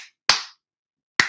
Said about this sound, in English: all of that clapping